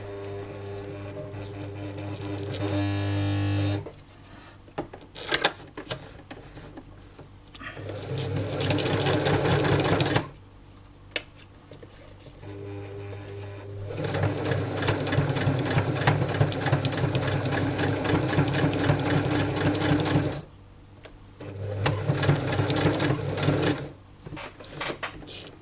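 A home sewing machine stitches paper ruffles in several loud mechanical bursts of rapid whirring, separated by short quiet pauses.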